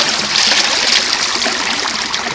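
Steady rushing and trickling of creek water as a piece of lead is rinsed in the stream, a close, continuous wash of water with no talking.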